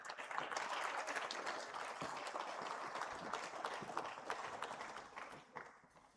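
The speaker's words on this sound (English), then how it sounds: "let's give them a round of applause, and let's be loud with it." A loud round of applause fills an awards-show audience, dense steady clapping throughout with a few cheers, easing slightly toward the end.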